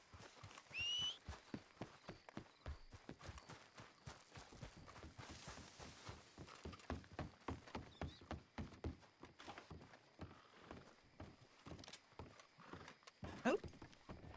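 Horse hooves clip-clop in a steady, even walking rhythm throughout a video game scene. A short whinny sounds near the start, and a faint voice sits beneath the hoofbeats.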